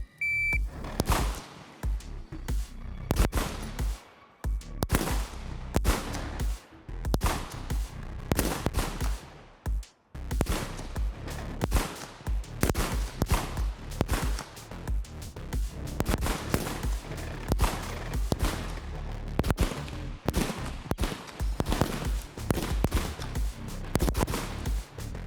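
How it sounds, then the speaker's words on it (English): Rifle gunfire in an NRA ARC match, ten rounds sent at a target's center on the range officer's command: a long string of sharp, loud, evenly spaced shots, many close and some more distant, carrying on across the whole span. "on his command, you're going to fire 10 rounds on the center of that target"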